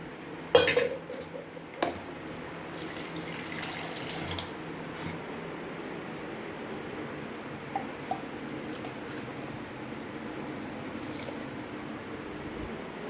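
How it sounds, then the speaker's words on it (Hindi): A couple of metallic clanks from a pan, then a steady, soft stream of water being poured into tomato gravy for several seconds. "अब इसमें हल्का सा पानी डालूँगी"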